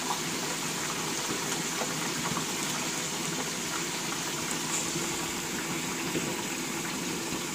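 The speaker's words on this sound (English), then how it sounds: "this is us deep frying a turkey" A turkey deep frying in hot oil gives a steady bubbling, sizzling hiss that holds at an even, moderate level throughout.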